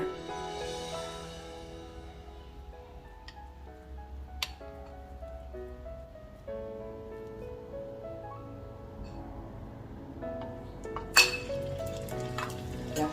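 Spanish-style pork rissole mixture, poured by the cupful into a pan over medium-low heat and pressed flat with a spatula, fries with a steady faint sizzle under soft background music, with a few brief clinks near the end.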